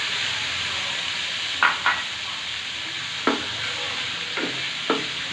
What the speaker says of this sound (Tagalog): dito sa maliit na kawali, lalagay na natin yung atay